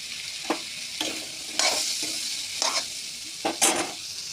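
Amaranth stems and potatoes being stirred into spices in a hot pan, with a steady sizzle and about seven separate scraping strokes of the spatula spaced roughly half a second apart, close up and without talk.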